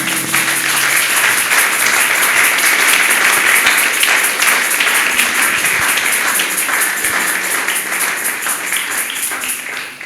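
A church congregation applauds at a Sunday morning service, a dense, steady wash of many hands clapping close and loud throughout, tapering slightly toward the end.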